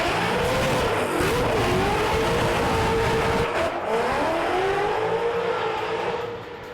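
A rear-wheel-drive Toyota drift car with a nitrous-fed 4-cylinder engine making about 1,000 horsepower roars continuously at high revs, pitch sweeping up and down as it slides with tires squealing, loud and close throughout.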